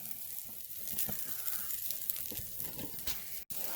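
Deer burgers sizzle on a grill with a close, continuous frying hiss dotted with small pops and crackles, broken by one brief dropout just before the end.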